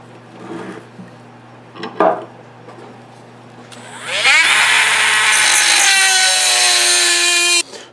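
A saw cuts through an O-1 tool steel knife blank, starting after a few light knocks and handling noises and then running as a loud, steady, high-pitched grinding whine for several seconds before stopping abruptly.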